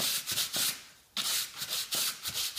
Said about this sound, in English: I do find sandpaper a better way of just smoothing that off